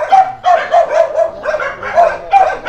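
Several dogs bark repeatedly in overlapping bursts at close to moderate distance, the yaps rising and falling with a few whimpering tones mixed in, no talk over them.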